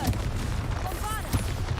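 Confringo and Bombarda spell blasts in the Hogwarts Legacy video game, quick booming bursts over a dense, loud battle din, with a voice calling out amid the effects.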